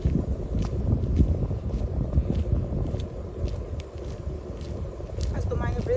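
Gusty wind buffeting the microphone at a roadside camper-van meetup, low rumbling rushes that rise and fall throughout, with faint voices in the background.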